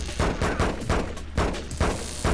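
Video game gunfire from a steady string of rapid shots, loud and close, with a punchy repeated rhythm and no speech over it.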